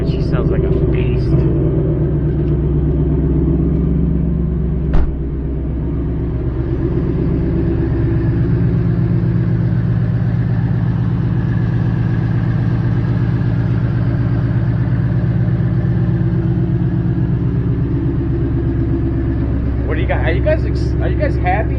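A car engine runs at a steady idle, a loud, deep, even rumble close by throughout, with a voice speaking briefly at the start and end.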